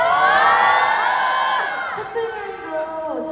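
A large concert crowd at a K-pop group's arena show cheers and shouts loudly, a dense roar of many voices that swells and then thins slightly over a few seconds.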